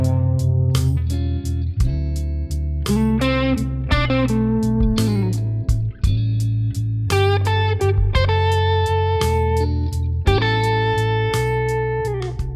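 An electric guitar with effects plays a minor pentatonic call-and-response phrase, with short melodic runs answered by sustained notes over a steady low bass line, loud and close with no talking.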